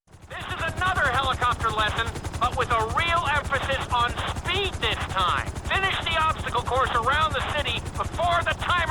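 A helicopter in GTA V during a flight school speed lesson, its rotor thumping in a rapid steady beat throughout, with a voice talking over it.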